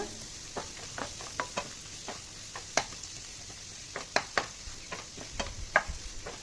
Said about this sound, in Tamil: அப்படியே நல்லா வதக்கி விட்டுக்கோங்க